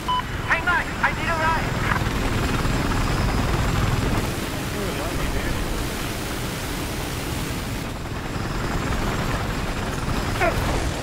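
A helicopter in Battlefield 4 roars steadily and loudly with a dense rotor wash throughout, while players talk over it and faint gunfire pops in the background.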